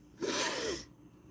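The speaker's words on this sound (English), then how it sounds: "I did not mean to sneeze at the phone." A single sharp sneeze, close and sudden, rising out of near silence and fading quickly.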